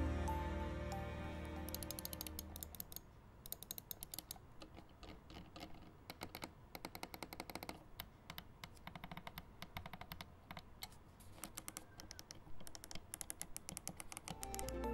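Buttons on a Razer Naga MMO gaming mouse clicked in quick, irregular bursts, sharp close-up taps repeating throughout with a few short pauses between runs.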